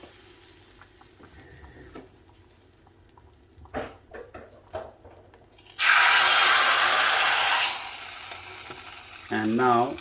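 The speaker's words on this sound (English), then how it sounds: "I'm just gonna put some hing, the asafoetida, and then tip that hot oil into the curry." Hot oil with asafoetida poured into a kadhi curry bursts into a loud, steady sizzle that hisses for a few seconds and then eases, following quieter clinks and stirring, with a brief tonal sound near the end.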